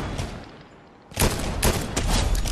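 Gunfire in Fortnite: after a quieter stretch of game ambience, a loud burst of rapid shots erupts up close and keeps going in dense, crackling volleys.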